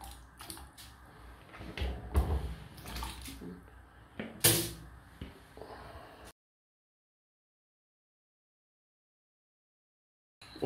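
Water poured into a cooking pot for Romanian potato soup, a splashy, gurgling pour with several bursts and one sharp splash, loud and close, ending abruptly before a stretch of silence.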